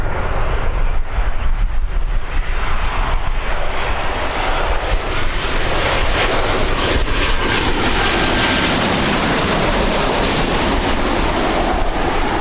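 A Ryanair jet departs Birmingham Airport, its engine roar swelling loud and near with a rising high whine and rushing sweep as it climbs past, no voices over it.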